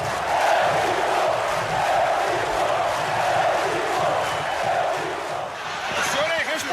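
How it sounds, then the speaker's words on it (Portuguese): Dense, roaring crowd noise filling a packed football stadium, a steady loud wall of cheering and chanting that swells slightly and carries on without a break. "E tem o apoio da torcida."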